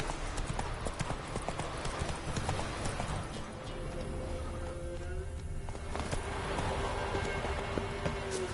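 Roach, the horse in the video game The Witcher 3, galloping in rapid, rhythmic hoofbeats, close and continuous, with rain-like background noise and a tonal whinny partway through.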